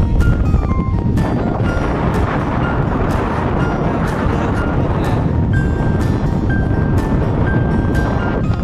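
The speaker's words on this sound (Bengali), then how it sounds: "মারাত্মক হাওয়া দিচ্ছে" Strong wind buffets the microphone on the North Sea beach at Noordwijk, a loud, continuous roaring rush with gusty bursts throughout.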